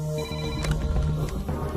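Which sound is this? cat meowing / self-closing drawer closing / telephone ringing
telephone ringing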